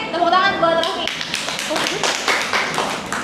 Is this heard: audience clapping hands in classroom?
yes